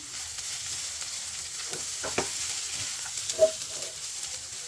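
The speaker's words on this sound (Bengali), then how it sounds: "এক টেবিল চামচ ঘি দিয়ে আবার একটু নেড়ে ছেড়ে নিয়ে নিতে হবে" Rice frying in ghee with green chilies sizzles softly and steadily, a few faint scrapes of stirring breaking through, with no voices.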